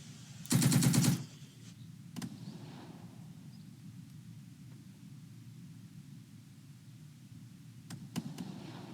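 Gunfire in the wargame Second Front: one loud burst of rapid automatic fire near the start, then a couple of sharp distant cracks later over a steady hiss, with no talking.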